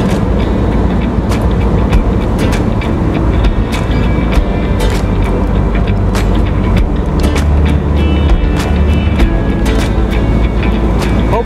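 A 1961 Jaguar E-Type on the road, its engine and road rumble steady and loud from inside or close by, with rattles and a dense, unbroken drone throughout.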